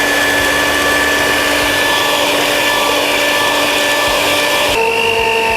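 An electric stand mixer kneads sweet bread dough with fresh milk and egg, a loud steady whirring hum with sustained tones that shift pitch slightly near the end, no voices.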